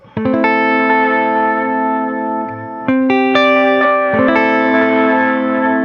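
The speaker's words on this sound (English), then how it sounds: "there's 500 milliseconds of true analog delay there for you" Electric guitar runs through a DMB Lunar Echo analog delay pedal set near 500 milliseconds, with sustained chords and single notes trailing into soft, repeating echoes; no one speaks.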